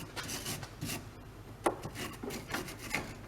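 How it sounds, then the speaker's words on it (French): Wire brush scrubbing the mount and edge of a car ball joint on a Renault Laguna, a close, quiet rasping with irregular strokes and a few sharper scratches over about three seconds, without speech. "on va coincer avec la brosse métallique, on voit la fixation de la rotule ici, nettoyer le bord de la rotule"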